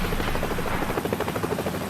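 A Marine Corps HMX-1 helicopter lifts off nearby, its rotor thudding in a steady rapid rhythm over a loud turbine roar.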